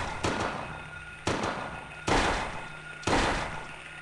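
Gunshots fired at monsters in the video game Silent Hill 2 ring out as four sharp, loud blasts spaced about a second apart, each trailing off in a short echoing decay.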